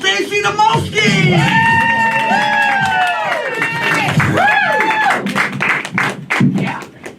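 A comedy club audience cheers and applauds, close and loud, with whoops, clapping and excited voices. Someone calls out over the noise with sliding, shouted tones.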